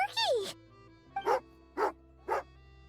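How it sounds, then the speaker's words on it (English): Tagarin, a dog in Genshin Impact, barks four times: one longer whining yelp, then three short evenly spaced woofs, loud and close with no talk over them. "Good doggy. Good doggy."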